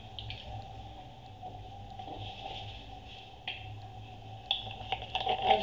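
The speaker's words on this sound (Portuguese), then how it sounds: "Agora eu vou botar água e vou tacar dentro do" Water is poured into a small Baby Alive toy plate while making baby-doll food, first as a soft, steady trickle and then as louder splashes and clinks near the end. No one speaks.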